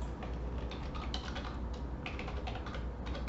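Rapid clicking of computer keys as a message is typed, irregular bursts of close, soft keystrokes with brief pauses, no voices.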